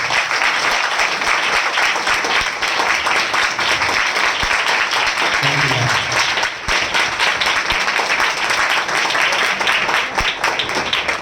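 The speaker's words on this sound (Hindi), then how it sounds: "हम जोरदार तालियों से उनका स्वागत करें" A church congregation claps loudly at a spiritual revival assembly, dense sustained applause with many hands filling the whole stretch, steady and close, with no speech over it.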